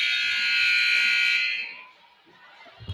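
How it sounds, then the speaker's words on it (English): A basketball game buzzer at a high school game marks the end of the first half, one long loud electronic blare lasting about a second and a half before cutting off into quieter gym noise. "They said Williams traveled, but it is after the buzzer"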